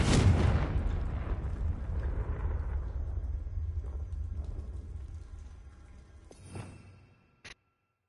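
A Confringo explosion spell in the video game Hogwarts Legacy goes off with a sudden loud blast, then a long rumbling decay that fades over several seconds, ending with a brief faint tail.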